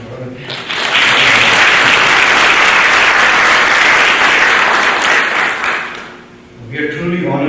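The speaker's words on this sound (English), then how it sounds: "Please give them a applause." A dinner audience at an annual celebration awards event bursts into loud, sustained applause that swells and holds, fades briefly, then a voice starts talking over the tail.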